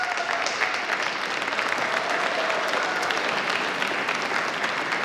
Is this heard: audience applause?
yes